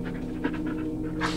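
Panting from a dog companion in the horror video game Blair Witch, a close, steady rhythm of quick breaths with no speech over it.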